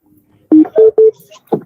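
Three quick tones of a telephone number being dialled sound close and loud in rapid succession, with faint noises before and after.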